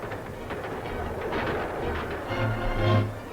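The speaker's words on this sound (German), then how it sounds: "Auch auf den Schienenwegen geht es schnell durch das luxemburgische Gebiet." A train runs along railway tracks through Luxembourg territory, a steady rumbling rattle with clickety-clack rhythm and brief higher squeals, continuous and fairly close.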